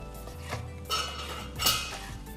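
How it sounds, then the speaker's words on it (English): Basil sprigs dropped into a pot of pho broth, giving soft clinks and clatter of metal utensils against the pot in a few brief bursts, near and fairly quiet, with no talking. "I will add some basil plants to the broth."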